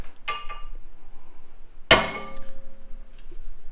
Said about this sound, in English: I'll usually smack, on the back, and then rotate 180 and smack it again